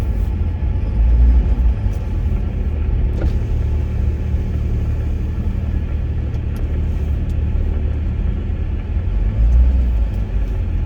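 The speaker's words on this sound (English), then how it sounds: "That may be a tow truck right there." A tow truck engine rumbles steadily on a snowy mountain highway, a continuous low drone with slight swells, heard from inside a vehicle with no talking.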